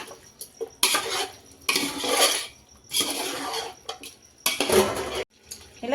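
Chicken with curd is stirred in a pot on low heat, a spoon scraping and clinking against the metal in several bursts with short pauses between, close and fairly loud.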